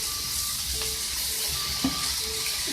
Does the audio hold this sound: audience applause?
no